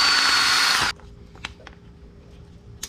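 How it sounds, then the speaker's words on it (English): A drill bores into the small brass idle adjustment screw cap on a 24mm CVK carburetor from a GY6 150cc, a loud steady whine for just under a second that cuts off abruptly, followed by faint clicks. "get it drilled through"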